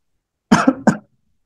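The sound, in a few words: cough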